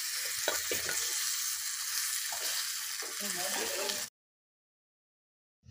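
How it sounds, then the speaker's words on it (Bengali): Tomatoes and spice paste fry and get stirred in a pan for chicken biryani: a steady, fairly loud sizzle with scraping spatula strokes that stops abruptly, followed by near silence. "এবার টমেটো দিয়ে দিচ্ছি, টমেটো দিয়ে দিলাম, এবার নেড়ে নেব।"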